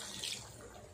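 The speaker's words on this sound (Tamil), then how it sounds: "நான் 1 கப் அளவுக்கு தண்ணி" A cup of water is poured into a simmering kulambu in a home kitchen, giving a short, soft, hissing splash of liquid that is close and faint, with no voices over it.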